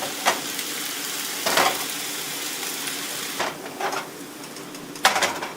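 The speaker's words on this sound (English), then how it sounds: "Cook the noodles to the amount of crispiness that you like. Add more cooking oil as required." Noodles pan-frying in cooking oil until crispy, a soft steady sizzle with a few brief louder bursts of stirring or pan contact, close by with no talking.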